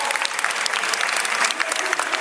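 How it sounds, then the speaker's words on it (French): Audience at a Paris manga and sci-fi convention applauding US actors after a question-and-answer session, a brief burst of dense, lively clapping from a large crowd, with some cheering mixed in. "on peut applaudir une dernière fois aux acteurs"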